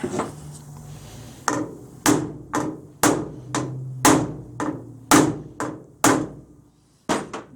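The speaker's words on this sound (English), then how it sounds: "Ball peen hammer's really knocking it in." A ball peen hammer strikes metal about a dozen times in an uneven rhythm on a 1929 Chrysler door jamb patch, each blow sharp and close with a short ringing tail.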